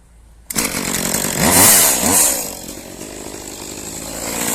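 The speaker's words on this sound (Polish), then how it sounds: "taka fajna pilareczka. Mam, mogliśmy zobaczyć jak się nią pracuje. Jeszcze raz ją uruchomię." A small top-handle chainsaw, a Shindaiwa 251 or Echo CS-2511, starts abruptly and runs loud and close, its engine revving up and settling back to a steady high-pitched idle.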